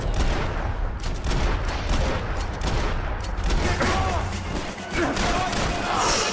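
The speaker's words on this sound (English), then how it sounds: "Whoa, somebody just shot me." Gunfire in the video game Max Payne 3 crackles in dense, overlapping bursts and rapid shots, loud and continuous with crashing impacts across the whole stretch.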